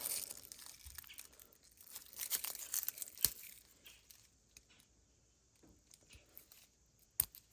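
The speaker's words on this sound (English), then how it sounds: "Just trying to remove them old roots off of there." Old dry roots being pulled by hand from papery garlic cloves during garden planting, giving close, quiet crinkling and tearing rustles in uneven bursts, with a few sharper snaps and no talking.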